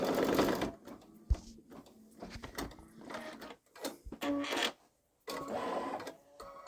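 Babylock Solaris embroidery machine stitching out white snowflakes, a steady mechanical whirring and rapid needle clatter that stops and starts in short bursts, fairly close with no talking.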